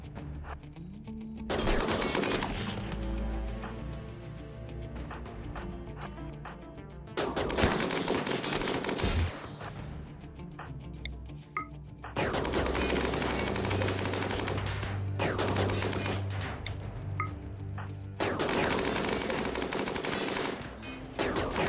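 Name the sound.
gunfire from colonists shooting at ice in the video game RimWorld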